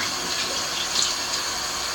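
Warm water pouring steadily into a Mr. Beer home brewing kit, a continuous close hiss and splash of running liquid with no talking.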